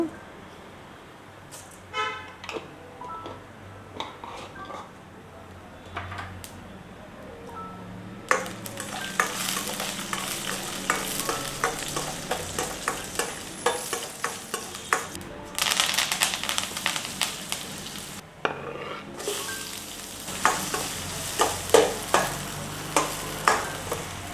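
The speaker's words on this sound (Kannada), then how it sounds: "ಮೆಣಸಿನ್ಕಾಯಿ, ದೆನ್ ಸಾಸಿವೆ, ಉದ್ದಿನಬೇಳೆ, ದೆನ್ ಕರಿಬೇವು, ಆನಿಯನು ಇದನ್ನೆಲ್ಲ ಸೇರಿಸ್ಕೊಂಡು ಫ್ರೈ ಮಾಡ್ಕೊಳ್ಳೋದು." Chillies, mustard seeds, urad dal, curry leaves and onion frying in a home kitchen pan, a faint start giving way to steady close sizzling with many sharp spatula scrapes and taps in irregular rhythm.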